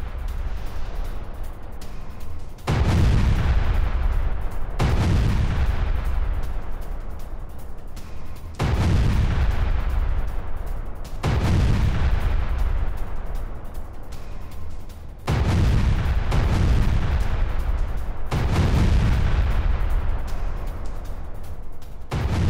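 Artillery fire from an anti-tank gun launching cluster munitions in war news footage, heard as a series of heavy booming blasts, roughly one every two to four seconds. Each loud, deep report decays into a rumbling tail, with no voices.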